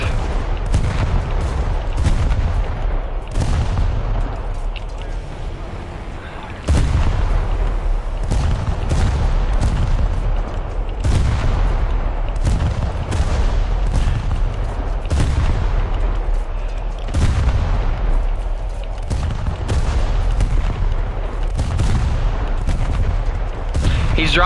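Rapid anti-aircraft gunfire from War Thunder air realistic battles, a dense, loud, continuous fusillade of overlapping bursts and booms with short breaks, with faint voices underneath.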